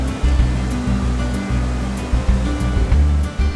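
Broad river rushing steadily in an open natural setting, a loud continuous churn of flowing water with no voices.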